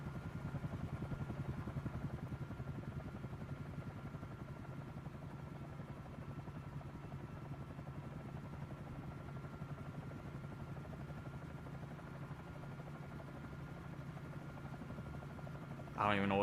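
Steady droning engine and propeller hum of a sightseeing aircraft flying in Microsoft Flight Simulator 2024 on PS5 Pro, a constant rotor-like buzz that holds unchanged for the whole stretch, with a brief clatter at the very end.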